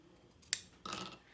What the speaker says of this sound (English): I'm going to take my ribbon scissors and I'm going to trim down those tails